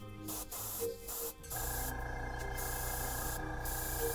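A miniature-painting airbrush sprays camo green paint in short bursts, a steady hiss that turns continuous, with an air compressor humming beneath it close by.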